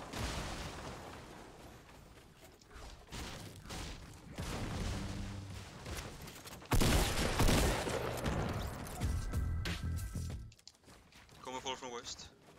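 Bursts of Fortnite Battle Royale gunfire and booming blasts, with a loud volley in the middle, over a busy game soundscape and electronic beeps.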